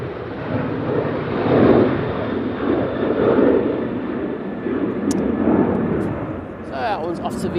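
An Aer Lingus airliner taxiing out at Manchester Airport on a windy day, its engine noise a steady broad roar with wind buffeting, and a voice talks over it throughout.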